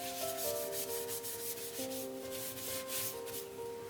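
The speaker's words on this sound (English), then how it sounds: "And then we can finish the sanding process off with some Yorkshire grit" A wooden yarn bowl is sanded with Yorkshire Grit abrasive paste: a continuous close rubbing rasp pulsing rhythmically over a steady machine hum.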